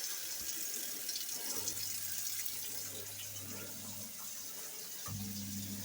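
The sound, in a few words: hot water running from a tap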